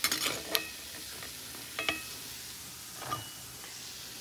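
Boras (fritters) being lifted out of hot oil in a home kitchen, with a faint, steady sizzle and a few sharp clinks and scrapes of a utensil against the pan, fairly quiet and with no voices.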